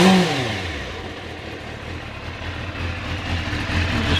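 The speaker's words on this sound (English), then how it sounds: "See how cleanly she revs up." A car engine with a standard exhaust revs up cleanly after the choke is pushed off, a steady, close, moderately loud engine note that swells slightly toward the end, with no talking.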